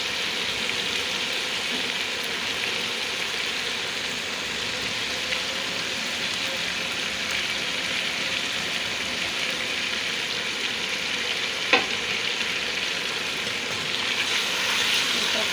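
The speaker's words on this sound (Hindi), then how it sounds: "मैं पेस्ट शामिल कर रही हूँ लहसुन अदरक प्याज और मिर्ची का।" A paste of garlic, ginger, onion and chili fries in a pan with chicken, giving a steady, moderate sizzle throughout with one brief sharp clink partway through.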